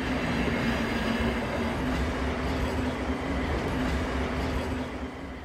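A train rolls steadily along rails, a continuous close rumble with a faint wheel whine over the track, fading slightly at the end.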